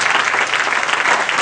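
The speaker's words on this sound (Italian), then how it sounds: "Fate un applauso a questi tre grandi ragazzi" Loud, dense applause from the audience at a small live blues concert, continuous and close throughout the short stretch.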